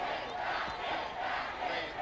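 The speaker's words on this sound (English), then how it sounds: "Thousands of San Franciscans joined together on November 15, 2013 to cheer on" A huge crowd of thousands cheers and roars in the streets of San Francisco for Batkid, a broad, distant wash of voices that holds steady the whole time.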